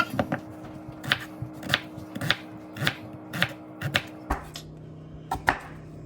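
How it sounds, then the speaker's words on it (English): Sweet potatoes are cut in half with a knife on a cutting board: a steady series of close, crisp chops at roughly half-second intervals, then a brief pause and two final cuts. "Put them together, cut them in half."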